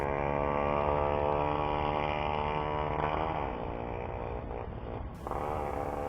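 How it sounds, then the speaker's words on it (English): A vehicle engine revs as it passes a house near a stop sign, giving a loud, steady buzzing drone whose pitch wavers and then drops away as it moves off. "Notice the revving just as it passes my house"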